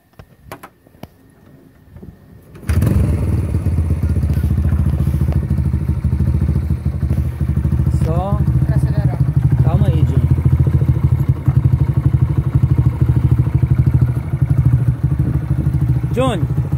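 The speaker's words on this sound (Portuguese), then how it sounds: "Liga a moto, Johnny." A motorcycle is started during a riding lesson: after a few quiet clicks the engine catches abruptly and settles into a loud, steady, throbbing idle close by, with brief voices speaking over it.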